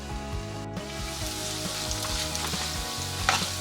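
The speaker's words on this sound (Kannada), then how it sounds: "ಈಗ ಇದನ್ನ ಒಂದು 8 ನಿಮಿಷ ಆಗುವಷ್ಟು ಬೇಯಿಸ್ಕೊಳ್ಳೋಣ" Amla chutney mixture cooking in a pan, a steady close sizzle with light stirring scrapes and a brief clatter near the end, no talking.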